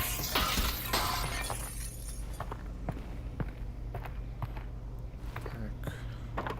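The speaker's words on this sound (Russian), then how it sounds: "А оказывается, что стекло-то можно разбить." A glass window shatters in the Half-Life: Alyx video game, a loud, bright crash at the start that trails off, followed by scattered sharp taps like footsteps or falling debris.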